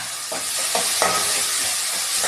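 Fenugreek seeds fry in hot oil as a tempering for a ridge gourd and moong dal dish, a steady loud sizzle and hiss with a few soft stirring scrapes.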